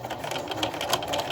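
A sewing machine runs steadily up close, its rapid needle chatter edge-stitching the fabric opening of a catnip-filled scrap-fabric pillow closed.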